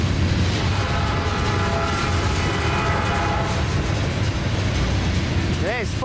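A Norfolk Southern powered mixed freight train with a passenger car in its consist rolls steadily past, a continuous loud rumble and rail clatter filling the scene, with a brief horn blast near the end.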